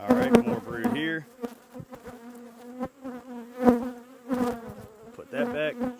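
Honey bees buzz steadily around an open hive during brood box management and feeding, a dense, close drone of many wings running throughout, with brief handling clicks and knocks over it.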